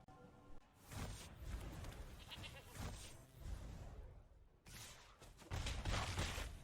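A goat in a video game bleats loudly in several wavering, nasal cries, broken by short pauses and mixed with other game sound effects, each bleat strong and up close.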